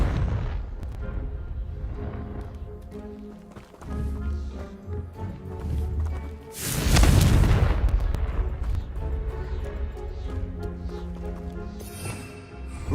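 A Confringo fire spell from Hogwarts Legacy bursts as a single loud, booming explosion partway through, standing out over quieter ambient game sounds.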